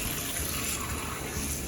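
Tap water runs in a steady, full rush as a turkey is rinsed in a kitchen sink, a constant close gush with no pauses.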